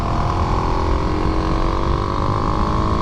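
A stock 2023 Kawasaki KLX300SM 300 cc motorcycle cruises on Highway 421 through Shady Valley. The engine holds a loud, steady drone under heavy wind rush, close to the rider, with no speech.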